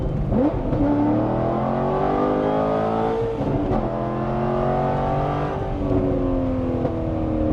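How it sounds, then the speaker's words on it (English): A C6 Corvette Z06 with the LS7 V8, oil warm but tires cold, revving hard and accelerating through several gears, loud and close from inside, each upshift resetting the rising engine note. "let's give you guys a little taste of this LS7"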